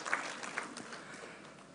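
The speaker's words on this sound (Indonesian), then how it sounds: "Mari kita berikan tepuk tangan untuk Sulawesi Selatan." Audience at a university honorary professorship inauguration clapping for South Sulawesi, a soft, distant spread of applause from a hall that stays fairly even and low.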